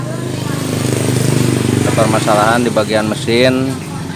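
A Yamaha Mio GT FI scooter engine with a rough-running fault, caused by once running out of oil, idles with a steady, coarse mechanical chatter, close up, while someone talks over it in the second half.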